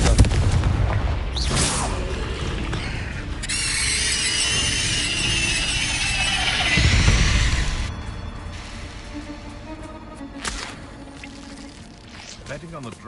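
In Hogwarts Legacy, the Confringo blasting curse goes off with a booming fiery blast and a long roaring, crackling rush, surrounded by other game effects and a voice speaking over the action.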